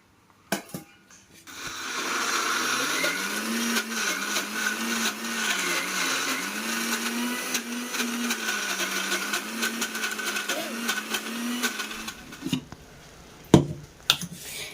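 An electric blender grinds chopped green chillies and onion into a paste for dal pakora. A loud, steady motor whine runs for about ten seconds after a few clicks, then cuts off and is followed by a couple of sharp knocks.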